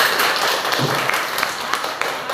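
Audience applause for a student group after their presentation in a classroom lesson, a steady patter of many hands clapping with sharp individual claps, mixed with faint voices.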